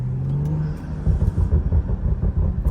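A BMW 335i tuned to Stage 2+ accelerating hard, a loud, close, deep engine rumble that swells and pulses with revs, heard alone without talk.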